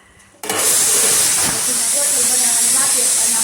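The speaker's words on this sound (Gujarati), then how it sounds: "પછી સીટી થાય છે કુકરમાં." A pressure cooker holding khichdi suddenly lets out its whistle: a loud, abrupt, sustained hiss of escaping steam that starts sharply and keeps going, close and strong, with a faint wavering tone inside the rush.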